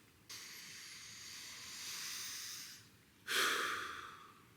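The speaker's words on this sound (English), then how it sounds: "That's deep breathing." A person demonstrates deep breathing: a long, slow hissing inhale or exhale, then a short pause and a second sharper, louder breath, close and quiet with no talk.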